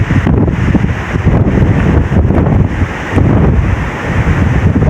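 Strong typhoon wind during Typhoon Kristine buffets the microphone in a loud, continuous roar, mixed with the rush of swollen floodwater and surf-like surging, with no voices.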